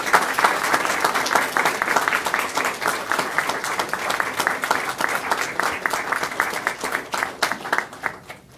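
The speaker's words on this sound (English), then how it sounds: "Let's have a round of applause for our Robo-Gaston champions." A hall audience at a county board of education meeting gives sustained, steady applause for elementary robotics competition champions, loud at first and tapering toward the end.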